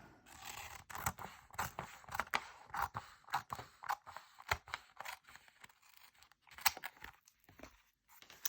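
Scissors snipping through paper for a collage, a close series of crisp, rapid cuts in uneven bursts with short pauses between strokes.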